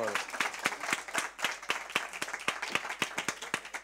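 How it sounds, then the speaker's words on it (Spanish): An audience at a business creativity and innovation event applauds steadily with dense, continuous clapping and a few sharper individual claps standing out, loud and sustained throughout. "le vamos a dar una ovación gigante"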